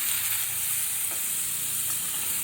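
Raw mango and pumpkin chutney sizzles steadily in a pan while salt and turmeric are stirred in, giving a continuous close frying hiss with faint scraping and no talk.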